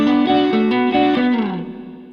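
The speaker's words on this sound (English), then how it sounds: "Now the last little sequence of the intro riff sounds like this." A distorted electric guitar plays the closing sequence of an intro riff, repeated sliding notes that ring out and fade at the end, with no voices.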